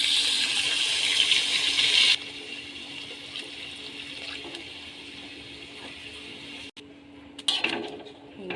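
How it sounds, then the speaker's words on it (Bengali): Water pours into a pot of mutton curry with a loud, steady rushing splash that softens as the pot fills, then stops, leaving brief clattering handling at the end. "জল দিয়ে দিচ্ছে"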